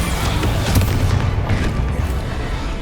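A Bombarda explosion spell from Hogwarts Legacy, a heavy booming blast with a deep rumbling low end that sustains loudly for a few seconds, with no voices over it.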